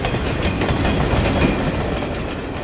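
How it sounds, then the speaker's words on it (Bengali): Cartoon train setting off at night and rattling along the tracks: a loud, continuous clatter and rumble without pause, with no voices. "এর সাথে ট্রেনের ঝনঝন শব্দ কানে তালা লাগিয়ে দিল"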